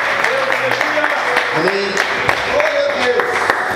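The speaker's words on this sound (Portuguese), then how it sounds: "Vamos aplaudir e glorificar a Deus" A church congregation applauds during a Portuguese-language service. The clapping is steady and continuous and sits under and around voices, with talking and singing heard throughout.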